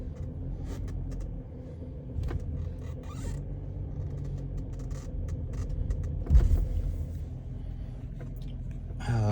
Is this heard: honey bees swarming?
no